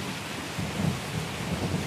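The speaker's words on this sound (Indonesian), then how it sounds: "Di luar, hujan masih turun deras, menutupi jendela dengan tirai air yang mencegahnya melihat keluar." Heavy rain pours steadily in a broad hiss while low rumbles of thunder roll underneath, a dense storm bed used as a background effect in a spoken ghost story about a night bus.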